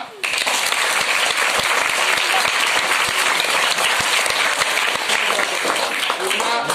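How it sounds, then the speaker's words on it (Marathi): Students at a seventh-grade school farewell ceremony break into loud, sustained applause, a dense wash of clapping that fills the room, with voices audible underneath. "टाळ्या वाजवा"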